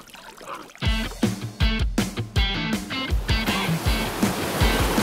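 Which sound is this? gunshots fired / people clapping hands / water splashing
water splashing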